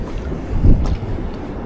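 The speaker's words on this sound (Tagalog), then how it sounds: "Malakas po ang hangin ngayon." Strong wind buffets an outdoor microphone beside water, producing a low, rumbling gust that swells briefly in the middle over a steady background roar.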